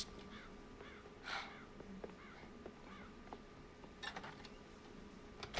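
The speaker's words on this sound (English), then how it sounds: "Okay, we gotta go kill the crows." Crows cawing over a cornfield in Red Dead Redemption, several rasping caws repeating at intervals, some nearer and sharper, over a quiet ambient background with no talk.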